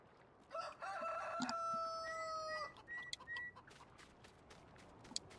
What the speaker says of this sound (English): Goddamn chickens.